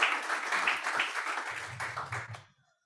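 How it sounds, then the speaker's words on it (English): Conference audience applauding for two speakers, a dense burst of clapping that holds steady for a couple of seconds, then thins out and stops with a short faint tail. "Big round of applause for Catherine and Sarah, please."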